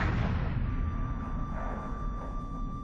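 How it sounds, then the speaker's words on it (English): A single musket shot, the first at Lexington, sounds as one heavy boom at the start, then a long rumbling decay with a faint lingering ring. "A gun went off, and then the British troops began firing."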